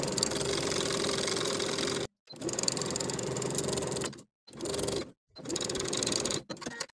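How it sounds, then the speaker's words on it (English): A sewing machine stitches a collar onto a shirt neckline along a quarter-inch seam, its motor whirring loudly and close in three sustained bursts separated by short silent pauses. "Now I'm going to sew the collar to the neckline from one edge of the collar straight across to the opposite"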